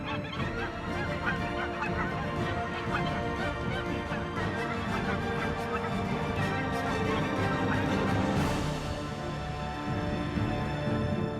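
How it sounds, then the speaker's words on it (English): A large flock of geese honks continuously while migrating south over the snowy tundra, a dense, loud chorus of overlapping calls that stays steady for the whole stretch. "The geese begin their escape to the south."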